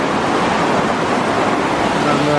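Water rushing out of a hydro power outflow into a river, a loud, continuous broadband roar that stays steady throughout with no break.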